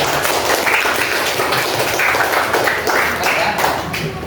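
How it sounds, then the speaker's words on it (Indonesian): Pupils clapping together in a school classroom lesson, a continuous, busy patter of many small hands lasting several seconds at fairly even loudness. "Oke, tepuk tangan untuk ini"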